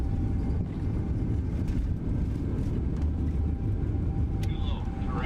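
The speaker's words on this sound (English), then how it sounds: "Hopefully we have a good takeoff." A PMDG 777-300ER airliner rolls down the runway on takeoff in MSFS 2024, giving a steady, loud low rumble of engines and wheels with faint clicks and a brief tone near the end.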